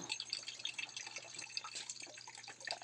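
A household water faucet drips at midnight while water is being collected, with quick, irregular small drips and splashes close by, fairly faint, with a low steady hum underneath.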